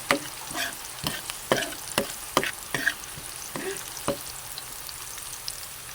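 Chicken pieces frying with browned garlic and onion in a pan for chicken adobo, a low steady sizzle with a regular series of scraping stirs, close and fairly quiet.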